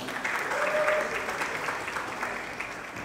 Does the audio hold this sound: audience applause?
yes